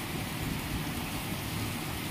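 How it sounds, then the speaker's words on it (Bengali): Heavy rain pouring down in a village, a dense steady hiss of falling water filling the whole stretch at moderate level, with no voices. "আমাদের এদিকে এই মাত্র এক্ষুনি খুব বৃষ্টি হচ্ছে।"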